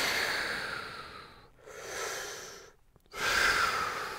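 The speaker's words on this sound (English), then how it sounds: "A couple more deep breaths." Slow, deep breaths during a stretching exercise, a long airy exhale, a shorter breath, a brief silence, then another strong rushing exhale, close to the mic with no speech.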